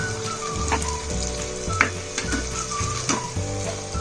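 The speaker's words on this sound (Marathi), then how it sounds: "मीडियम गॅसवर तळून घ्यायचे किंवा शॅलो फ्राय करायचे।" Veg cutlets fry in oil over medium heat with a continuous bubbling sizzle, broken by a few sharper pops and light clinks as they are moved in the pan.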